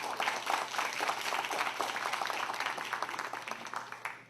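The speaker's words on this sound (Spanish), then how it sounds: "un aplauso para todos" Applause at a disaster prevention and response forum after a presentation, steady broadband clapping from a seated audience lasting the whole stretch at moderate level, tapering slightly near the end.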